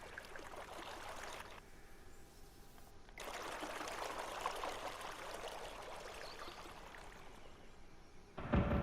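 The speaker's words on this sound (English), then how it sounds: "As you can see, that water sound is far too far away." Flowing water in the Dreams game on PS4 plays as a soft, steady trickle that sounds distant, with the level rising midway and a brief louder burst at the very end.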